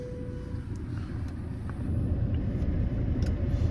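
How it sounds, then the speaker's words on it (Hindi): A used Tata Safari Storme diesel SUV with 147,000 km on it idles just after starting, a steady low rumble with heavy vibration that swells slightly midway, heard from close by with no talk. "क्लच दबाए, गाड़ी कर दी है हमने स्टार्ट। स्टार्ट करते ही जो है आह क्या बेहतरीन वाइब्रेशन आई है"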